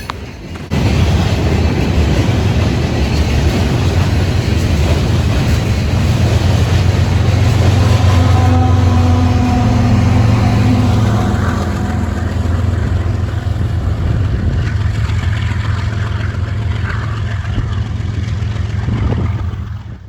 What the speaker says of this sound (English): This sand train was utilizing a rear DPU, and what do you know, another X-City Rail GEVO.